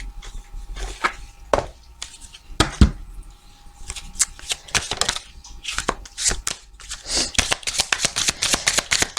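Angel oracle cards being shuffled by hand: a brisk, close riffling and flicking that speeds into dense, rapid patters toward the end.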